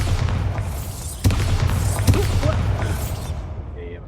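Blasting spell cast in a stealth video game, a sudden booming thud against a steady rumbling game backdrop, with a second softer impact and faint magical shimmer afterward.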